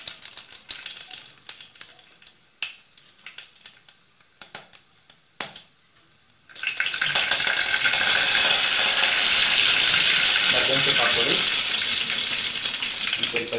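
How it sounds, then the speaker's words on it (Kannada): Mustard seeds hitting hot oil and ghee for a simple South Indian rasam: scattered pops and clinks at first, then a sudden loud, steady sizzling crackle that continues close up. "ಎಣ್ಣೆ ತುಪ್ಪ ಚೆನ್ನಾಗಿ ಕಾದಿದೆ. ಓಕೆ, ಮೊದಲಿಗೆ ಅದಕ್ಕೆ ಸಾಸಿವೆ ಹಾಕ್ಕೊಳ್ಳೋಣ."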